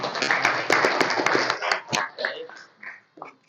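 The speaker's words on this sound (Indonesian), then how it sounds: "Tepuk tangan" A classroom group claps together after a student's answer, a burst of sharp, rapid hand claps for about a second and a half that thins into scattered claps while voices chatter.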